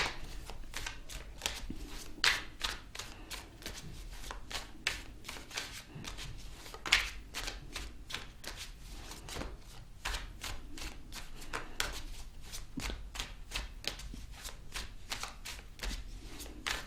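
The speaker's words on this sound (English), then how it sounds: "I'm going to clarify the cards and pull some advice." Tarot cards are shuffled and pulled from the deck in a long run of quick, crisp riffling snaps, close and fairly quiet, with no talking.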